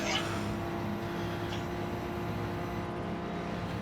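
Race cars driving in Gran Turismo, a steady engine drone with a brief passing whoosh, moderately loud and continuous, no voices.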